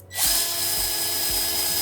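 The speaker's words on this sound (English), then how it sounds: "We're gonna put the drill bits in, and this is gonna be interesting. I'm gonna drill." A cordless 18-volt drill spins up and drills, giving a steady, loud, high motor whine with faint low thumps beneath it.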